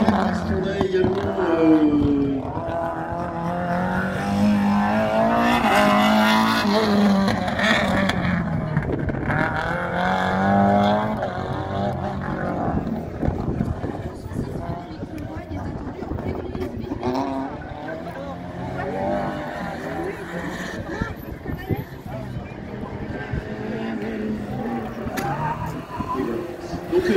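A Citroën AX Sport on a slalom course at Ancenis revs hard, its engine note rising and falling through quick shifts and turns, with a voice speaking over the car for much of the run.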